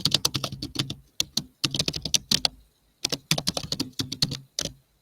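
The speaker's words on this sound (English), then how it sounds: "It sounds like you're typing an answer." Rapid, irregular keystrokes on a computer keyboard, close and fairly loud, coming in bursts with short pauses between runs of typing.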